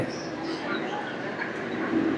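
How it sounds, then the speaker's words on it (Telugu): A Rayagada–Guntur Express passenger train runs steadily, a continuous rumbling roar heard from inside a carriage with a murmur of voices beneath it. "విశాఖపట్నం నుంచి మన ట్రైన్ అయితే స్టార్ట్ అయిపోయింది"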